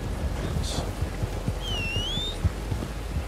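Rain falling in the Western video game Red Dead Online, a steady wash of downpour with low thumps and a brief whistling tone overhead, heard without speech.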